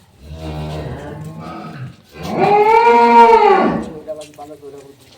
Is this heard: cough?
no